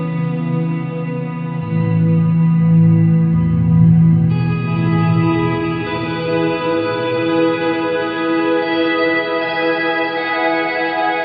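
Electric guitar through a Quad Cortex multi-effects unit, reverb into tremolo, sustained chords ringing with a washy, echoing tail and a pulsing shimmer, steady and fairly loud with no talking.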